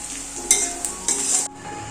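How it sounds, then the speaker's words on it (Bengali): Sliced onions fry in hot oil into crispy birista for a home-cooked chicken biryani. A steady sizzling hiss carries light stirring scrapes, then cuts off sharply near the end. "আর এই যে এদিকে হচ্ছে বেরেস্তা ভাজা"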